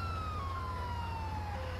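A wailing electronic video game police siren, faulty, with a slowly falling pitch sounds steadily over a low rumbling hum, moderately loud and without any talking.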